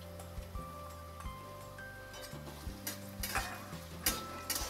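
Sliced onion and two bay leaves frying in hot oil, a steady low sizzle with soft stirring scrapes, close and continuous under a sustained background hum.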